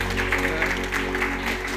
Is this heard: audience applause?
yes